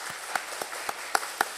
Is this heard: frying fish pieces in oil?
no